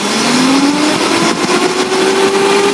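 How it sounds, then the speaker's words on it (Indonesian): A 2003 Suzuki Carry Futura Realvan engine revved up to about 4000 RPM, a loud close mechanical drone whose pitch climbs steadily and then holds high, with no voices. "Nah, tergeber sampai RPM 4000, suara mesinnya masih aman, nggak ada suara aneh kayak metal gitu"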